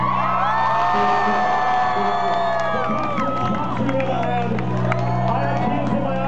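A concert crowd at a Leeds gig cheers and whoops loudly and continuously, with shouts rising over a steady roar of many voices and a low musical hum underneath.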